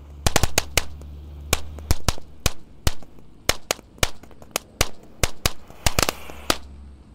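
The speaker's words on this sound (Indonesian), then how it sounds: "Lanjut yang kita nyalakan di sini ada mercon tank Thor guys. Ini bisa meluncur ya tanknya." A Thor tank firecracker, a sliding tank-shaped banger set off at night during Ramadan, crackles through a long run of sharp, loud pops in quick irregular bursts, with a steady low rumble underneath.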